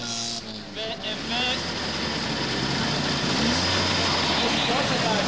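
A BMW 3 Series race car in the class F up-to-2-litre category revs at the start of the Pezinská Baba 2004 hill climb. The loud engine drone holds steady and builds while an announcer talks over it.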